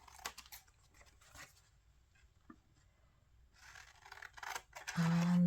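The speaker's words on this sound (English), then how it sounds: "These ladies fits perfectly, although I am going to trim a little bit more." Scissors trim a photo to fit into an antique French document journal in sea foam, a few close, quiet snips and paper scratches with pauses between, ending with a brief steady tone.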